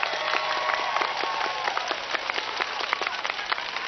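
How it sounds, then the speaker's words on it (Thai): An audience claps steadily, producing a dense, even patter of applause that stays loud across the whole moment. "ขอเสียงปรบมือกำลังใจให้ชัยราชวัตรหน่อย"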